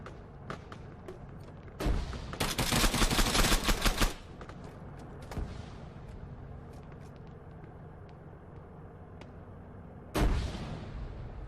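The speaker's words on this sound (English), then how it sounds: "Really unlucky grenade round there" A grenade round explodes amid gunfire in Arma 3 King of the Hill: sporadic shots crack throughout, with a sustained loud burst of fire and blasts early on and another sharp, heavy boom near the end.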